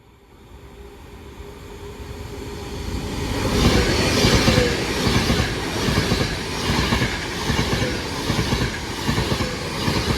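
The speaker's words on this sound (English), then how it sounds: "another Pendolino crawling its way through" A Pendolino electric train crawls slowly through a station, its rumble swelling over the first few seconds, then holding steady and loud with rhythmic clickety-clack of wheels over rail joints and faint wheel squeal.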